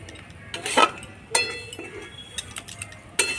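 A spatula stirs raw banana peels frying in a pan, giving a few sharp metallic clinks and scrapes against the pan over a faint, quiet sizzle, with no talking.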